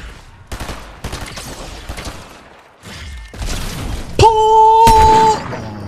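Fortnite sniper rifle gunshots ring out as several sharp, separate cracks spaced a second or so apart, followed by a louder burst and a brief sustained tone, with game sounds around them and no talk.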